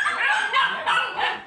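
Several 45-day-old Phu Quoc puppies bark and yip close by in a quick run of overlapping high-pitched bursts, with no talking.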